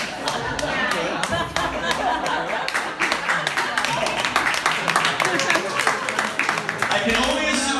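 Scattered audience clapping at a stand-up comedy show at Dead Crow, with sharp individual claps from a crowd mixed with murmuring chatter and laughter, continuing unevenly throughout.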